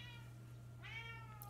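A domestic cat meows at a door, two drawn-out harmonic cries with the second rising then falling, heard fairly close over a steady low electrical hum, with no talking.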